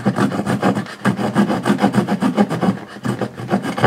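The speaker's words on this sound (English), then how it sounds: "Let's see how well this saw works" A small folding saw rasps steadily through wood, close up, in quick regular back-and-forth strokes with no talking.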